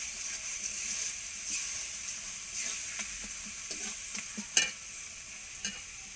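A fish head being stirred in a frying pan makes a constant bright sizzle, with several scraping knocks of the utensil scattered through it, close and moderately loud.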